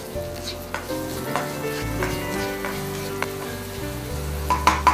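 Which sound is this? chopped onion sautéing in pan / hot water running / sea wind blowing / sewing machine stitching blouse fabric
chopped onion sautéing in pan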